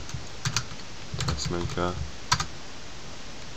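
Keys clatter on a computer keyboard as a Minecraft adventure map name is typed: short bursts of crisp, close clicks with a voice speaking briefly over them.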